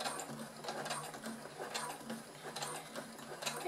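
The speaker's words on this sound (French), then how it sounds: "Et je fais ma couture tout le long, doucement." A sewing machine stitches slowly and steadily through thick layers of faux leather and foam on a half-moon zippered coin purse, its needle ticking in a quick, even rhythm with a faint motor hum underneath.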